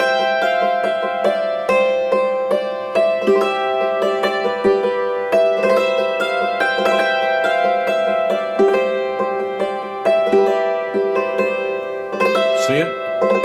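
A hammered dulcimer plays the hymn Joyful, Joyful, We Adore Thee with ornamented embellishments: bright struck strings ring in quick runs and rolls with sustained shimmering resonance, played alone and up close.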